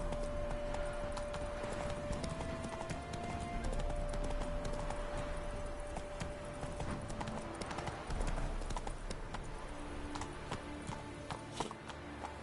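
Horse galloping in the video game Witcher 3, a steady rapid clip-clop of hooves throughout with game ambience behind it and no talk.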